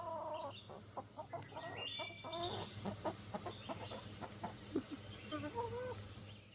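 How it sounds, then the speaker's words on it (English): Young chickens on a farm cluck and peep in a busy, overlapping stream of short calls, close by, with a steady low hum underneath and no talking. "what you doing, baby chickens?"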